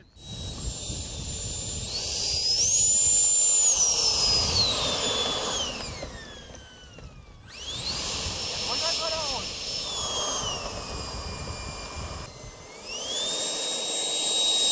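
A 3D-printed model Harrier STOL jet with new ducting lands on its gear at a small airfield, its high whining turbine swelling loud, sweeping down in pitch, then rising again in repeated bursts up close.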